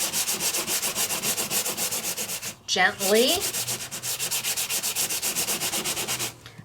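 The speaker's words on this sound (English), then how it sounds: "And I could keep sanding" Steady back-and-forth sanding of an embossed alcohol ink card, a close rhythmic rasping of regular strokes that pauses briefly midway while a voice speaks quietly, then resumes.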